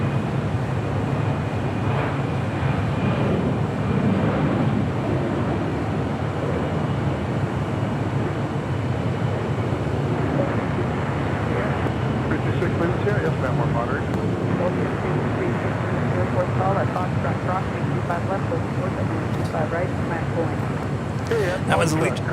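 An Airbus A319 airliner departs from a runway at LAX, its jet engines a broad, sustained rumble and roar at a distance, with someone talking throughout.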